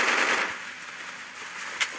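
Shotgun fire in the battle-royale game Garena Free Fire: a loud, sharp burst at the start fades into a hiss, and a single short crack follows near the end.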